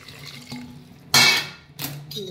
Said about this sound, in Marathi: आणि आता वरती ना गरम पाणी टाकून घ्यायचं